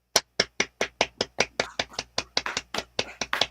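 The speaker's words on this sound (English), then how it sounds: "Everybody give them a round of applause." A single pair of hands claps steadily about fifteen times at a brisk, even rhythm, each clap sharp and close with nothing else in between.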